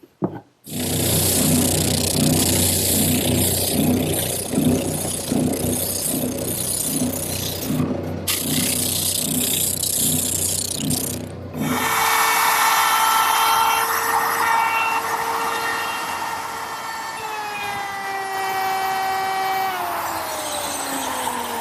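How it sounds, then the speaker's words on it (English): A drum sander smooths the rounded wooden corners of a roll top desk's upper case, running loud and close with a rhythmic pulsing grind, then a steady motor whine that winds down. "Now I'll sand them smooth at my drum sander."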